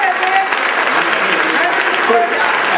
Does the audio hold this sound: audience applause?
yes